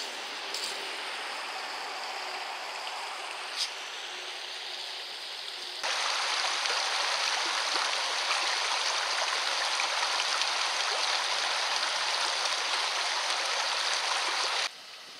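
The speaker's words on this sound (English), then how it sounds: "right beside the Tay River" The Tay River in Alberta rushes and burbles nearby in a steady wash of flowing water, growing louder and fuller partway through, with no voices.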